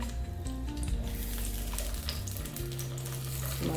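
Brinjal fries in hot oil with a steady close sizzle throughout, joined by a low sustained hum and a few faint clatters, with no voices.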